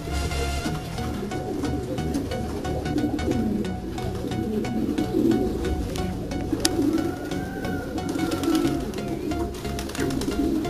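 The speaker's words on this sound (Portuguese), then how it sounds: "Você pode ver aí, tem alguns pombos aqui só." Pigeons in a breeding loft coo in low, soft murmuring calls that overlap continuously, close by amid light rustling and small clicks.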